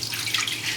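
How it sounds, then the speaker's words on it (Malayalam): Water is poured from close by into a pan of thickening milk sauce, making a brief, steady splashing gush with no talk. "ഇതിലേക്ക് അത്രയ്ക്ക് തന്നെ വെള്ളം ഒഴിക്കണം"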